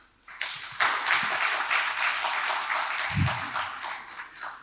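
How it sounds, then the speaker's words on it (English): Audience at a marketing festival panel applauding the panelists, a dense, steady burst of many hands clapping that starts abruptly and sustains throughout at close, loud level. "I would actually request everyone to give a round of applause to our dear panelists"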